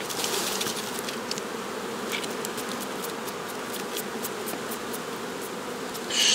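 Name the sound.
honey bees buzzing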